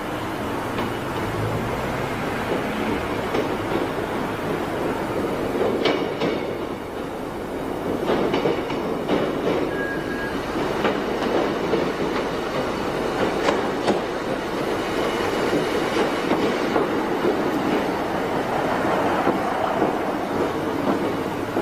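A Class 511 electric train running between stations, with a steady rumbling roar of motors and wheels on rails, occasional clicking joints and brief faint squeals, heard continuously from onboard.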